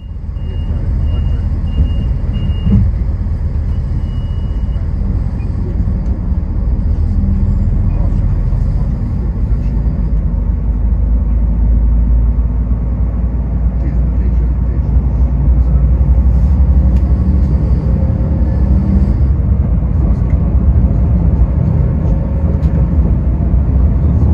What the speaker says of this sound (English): now we can listen to the sound of the train that I'm traveling on